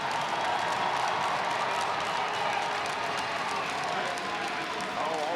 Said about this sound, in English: let's have one more round of applause for our 7 seniors